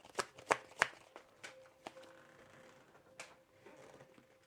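Tarot cards are shuffled and drawn by hand, three quick sharp riffling bursts up close followed by softer single card snaps and slides, quiet and without talk.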